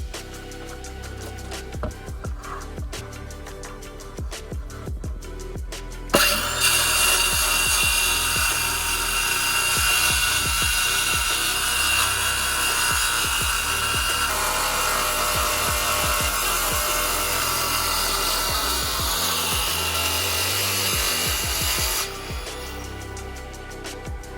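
A battery-powered saw cuts wood for a desk build with one long, loud, continuous whine of roughly fifteen seconds, preceded and followed by quieter handling and knocks.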